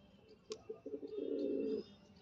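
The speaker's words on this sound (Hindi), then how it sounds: "दोनों गुस्से में कबूतर के बच्चे" Two ten-day-old pigeon chicks fighting give a short, soft cooing grumble with a few faint pecks, quiet and close.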